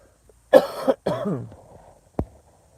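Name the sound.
cough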